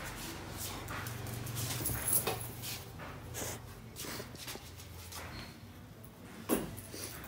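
A dog moves close by, giving snorts and soft whimpers among shuffling footsteps. The sounds are faint and intermittent, with a couple of sharper bursts.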